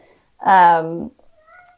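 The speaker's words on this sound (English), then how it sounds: "So if you hear my cat meowing" A house cat meows once behind a closed door, a single clear drawn-out call lasting about half a second, close and loud against near silence.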